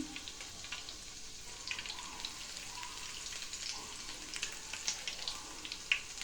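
Garlic frying in oil over a high flame, a steady close crackling sizzle with dense spitting pops throughout, no voices.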